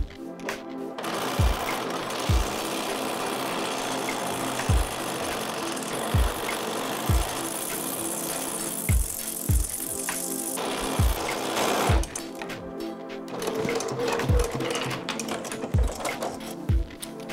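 Sewing machine whirring in long runs while stitching quilt charm pack pieces, with regular thumps between seams and a steady motor hum close by.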